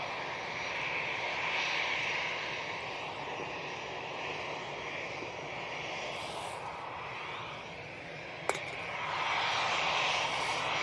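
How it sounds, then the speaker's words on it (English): A Qatar Airways airliner taxis at Manchester Airport, its engines a steady, moderately distant whine and rumble holding throughout, with a brief sharp click near the end. "Qatar, I can see, is coming out in the taxi."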